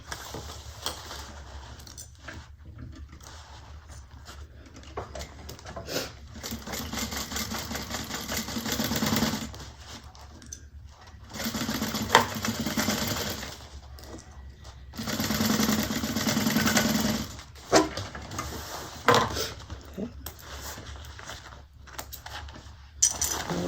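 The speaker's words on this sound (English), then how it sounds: "And we're gonna sew across at 1/4 inch." A sewing machine stitches across a bag seam at a quarter inch, with steady mechanical running in bursts separated by short pauses and small handling clicks, close up and without talk.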